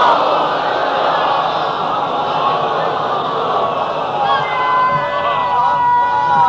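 A big gathering at a Shia religious address loudly recites salawat together, a dense, sustained roar of many voices that swells continuously without pause.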